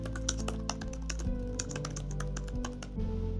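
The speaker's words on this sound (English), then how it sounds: "I actually like typing on this keyboard" Typing on the keyboard of a Lenovo IdeaPad Flex 3 11-inch AMD laptop: quick, irregular light key clicks over a low steady hum, fairly quiet and close, with no speech.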